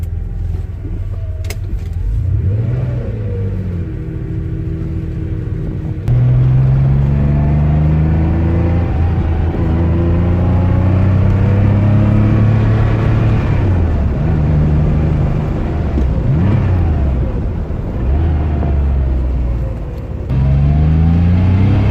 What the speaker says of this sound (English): Flat 6 sounds fantastic.